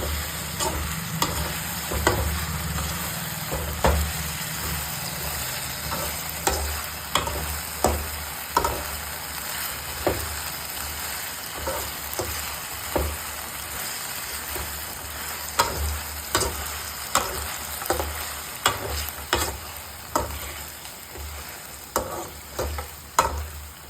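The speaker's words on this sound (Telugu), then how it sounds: "ముందుగా వేయించుకున్న చికెన్ పకోటా దీంట్లో వేసుకోవాలి. బాగా మిక్స్ చేయాలి దీన్ని." Pre-fried chicken pakoda tossed and mixed in a frying pan for chilli chicken, a continuous sizzle punctuated by regular clacking strokes of a spatula against the pan, close and rhythmic throughout.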